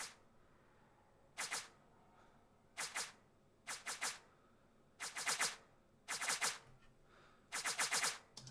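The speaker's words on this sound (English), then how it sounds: "These are just like the, I guess, bullet flybys." Bullet flyby sound effects built for film and game sound design, heard as six loud clustered bursts of sharp whooshing snaps at roughly one-second intervals, each cluster made of several quick passes, with no talk.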